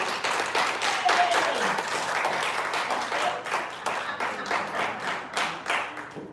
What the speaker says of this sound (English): Ladies and gentlemen, please give a big round of applause to Dr. Rich Castellano